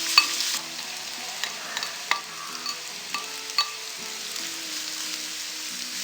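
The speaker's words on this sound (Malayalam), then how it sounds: "ഉള്ളി ഓൾമോസ്റ്റ് ഫ്രൈ ആയി തുടങ്ങിയിട്ടുണ്ട്." One large onion frying in coconut oil for a fish biryani, a continuous close sizzle broken by scraping stirs and soft clicks of the spoon against the pan, with no talking.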